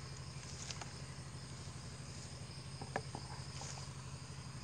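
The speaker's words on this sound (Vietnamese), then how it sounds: "cái đàn dế này nó ăn kinh luôn nha các bạn" A colony of crickets kept in a plastic tub, fed cassava leaves, keeps up a steady rapid chirping drone, with faint rustles and ticks from the container and leaves mixed in.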